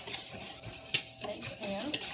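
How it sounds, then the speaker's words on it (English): A spoon stirs spices into a mixture in a bowl, giving a soft continuous scraping swirl with a couple of light clinks, up close and with no voices. "Stir that together to get the spices"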